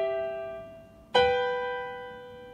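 Two keyboard notes sound together in harmony, a new chord struck sharply partway through and ringing on with a slow, steady decay, alone without any talk.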